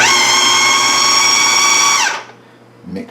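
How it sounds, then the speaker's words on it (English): A food processor pulses butter into dry ingredients for a pear tarte tatin, a loud steady motor whine for about two seconds that winds down and stops, followed by a faint clunk. "Now this gets pulsed until the butter is in smaller pieces"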